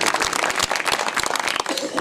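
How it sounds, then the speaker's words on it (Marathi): An audience clapping hands together at a devotional kirtan gathering, a dense steady patter of many claps filling the whole stretch with no pause. "टाळी वाजवा"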